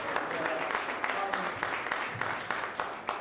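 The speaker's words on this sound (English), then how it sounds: "Y'all give her a round of applause." An audience at a roundtable with Puerto Rican community leaders in Orlando gives a round of applause, a fairly even wash of clapping with some louder individual claps and faint voices in the crowd.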